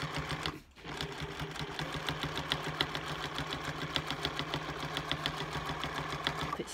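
A sewing machine top stitching a fabric cushion, running in a steady, rapid mechanical whir with a regular clicking pulse after a brief pause at the start, close and continuous.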